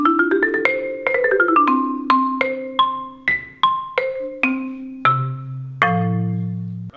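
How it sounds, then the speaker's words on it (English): A 4 1/3 octave marimba with Honduran rosewood bars plays a quick rising run of mallet strikes, then slower separate notes that ring warm and woody and descend to a low, sustained final tone, close and clear. "It's a 4 1/3 octave marimba."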